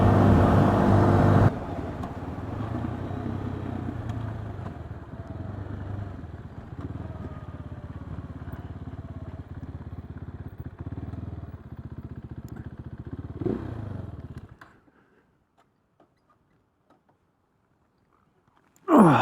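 KTM 390 Duke motorcycle riding, a steady mid-pitched engine drone with road rumble for about thirteen seconds, then it cuts off into near silence before a brief loud noise at the end.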